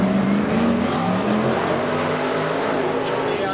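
Modified race cars at a pole shuffle meeting in Huntly roar off the start line, engines revving hard in a loud, sustained, continuous blast close by.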